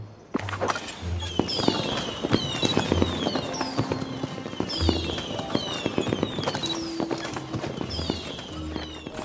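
Repeated bursts of crackling, popping explosions with whistling rises, dense and continuous, like a fireworks display in the game Disney Dreamlight Valley, with low thuds underneath.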